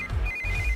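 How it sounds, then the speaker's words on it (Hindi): A phone rings with a short, bright electronic trill, clear and close, over a low rumble. "इस वक्त दीदी का फोन।"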